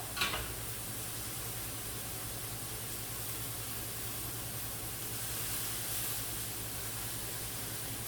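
Low-carb keto burger patties sizzle steadily in a pan, a continuous hissing fry that stays fairly even throughout, with a brief clatter at the start and no one talking.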